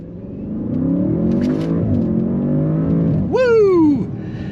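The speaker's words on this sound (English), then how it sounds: "Acceleration is exciting, sub 4 seconds." A 2022 Audi S8 luxury sedan accelerates hard, its engine note climbing steadily and loud from inside the cabin, then surging into a sharp rising rev before easing off near the end.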